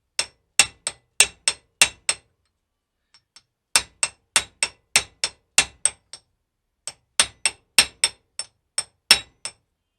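Hammer driving a flange bearing into a Honda ST1300 rear wheel: three sharp bursts of quick metallic blows, six to eight strikes each, separated by short pauses, close and loud with no talking.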